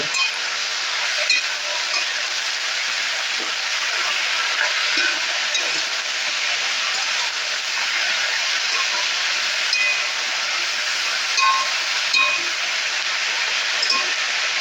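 Pumpkin shoot curry being stirred in a pan, a continuous hissing sizzle with faint scraping and small clinks of the spoon throughout.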